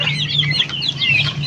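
Young turkeys about one month old in a backyard pen, giving a rapid run of high, chirping peeps that overlap continuously at close range, with no talking.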